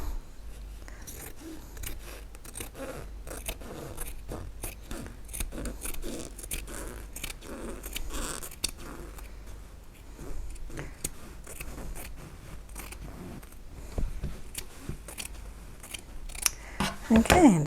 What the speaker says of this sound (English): I'm just going to cut along the fold